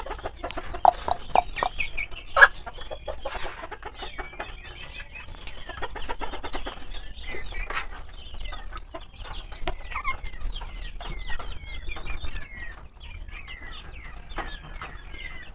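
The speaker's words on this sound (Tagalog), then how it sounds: "So ganito po katakaw, mga kabakyard, kumain ang aking mga alagang manok dito sa aking area." A flock of pet backyard chickens clucks and chatters continuously while pecking at feed, with overlapping soft calls and a few louder squawks near the start.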